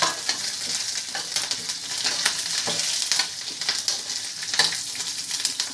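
Curry leaves crackle and sizzle hard in hot oil as a tempering for lemon rice, a loud, dense spitting hiss with sharp pops, close by, with no talking.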